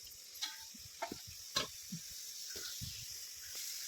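Spices temper in hot oil in a pan on a country clay stove, a faint sizzle broken by scattered sharp pops and crackles.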